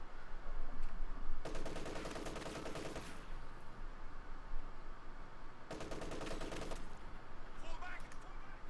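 An MG34 machine gun in Company of Heroes 2, set up inside a house, fires two long rapid bursts of about one and a half seconds each amid steady battlefield ambience, with someone commentating over it.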